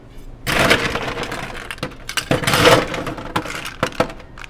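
Large ice cubes clatter and crack as they are picked out of a bin for a rolled cocktail, bursts of close, bright clinking and crunching with short pauses between.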